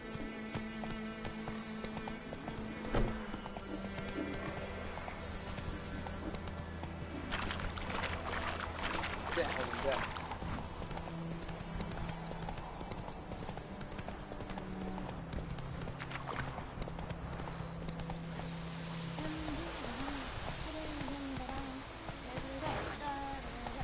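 Hooves of Geralt's horse Roach clip-clop rhythmically in The Witcher 3, a steady galloping patter under game music and voices, fairly faint throughout.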